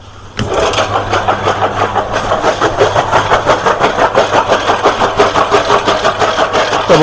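A grass-cutting machine for cattle fodder, its belt refitted after clogged grass knocked it off, kicks into life with a sharp start and then runs on in a steady, loud, pulsing chug close by.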